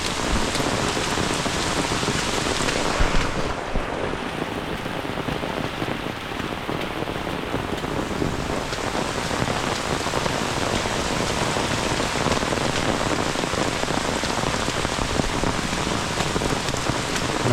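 Heavy monsoon downpour in rural Konkan near Khed, Ratnagiri, by a flooded river: a dense, loud, unbroken roar of rain pounding surfaces, steady throughout with no voices.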